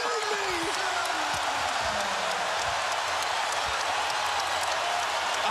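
An arena crowd at a Golden State Warriors basketball game roars and applauds for Klay Thompson in a dense, sustained wash of cheering, steady and loud throughout, with a commentator's voice faintly underneath.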